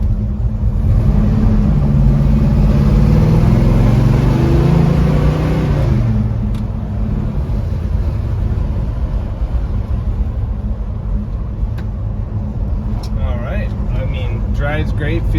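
Heard from inside, a 1966 Chevrolet Chevelle drives with a loud, steady engine rumble that rises and eases through smooth gear shifts, with faint background noise near the end.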